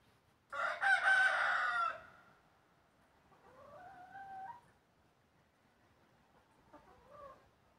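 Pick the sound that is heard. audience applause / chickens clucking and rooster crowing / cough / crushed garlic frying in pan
chickens clucking and rooster crowing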